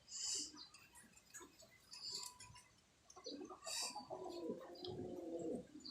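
Racing pigeons coo in soft, throaty, rolling calls, with a few brief chirps and scattered flutters nearby, growing fuller and more layered toward the end.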